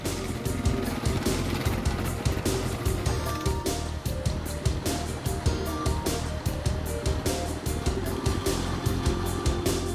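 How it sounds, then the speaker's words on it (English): Honda 420 fuel-injected utility quads ride along a dirt trail, engines droning loud and close with steady rumble and rhythmic bumps and surges throughout, no talk. "out onto the trail we go with the 420 fuel-injected Hondas"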